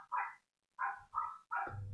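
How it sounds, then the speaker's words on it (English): A neighbor's dog barks four times in quick bursts, clear and fairly close, with short pauses between yaps and no talking over it. "my neighbor's dog is barking."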